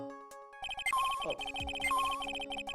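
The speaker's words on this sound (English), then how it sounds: "That's the sound of metal detector signal bouncing off somewhere." In Phoenix Wright: Trials and Tribulations, a metal detector emits rapid, evenly pulsed electronic beeps with a rising tone sweep, bright and continuous after a short pause; a voice murmurs briefly near the start.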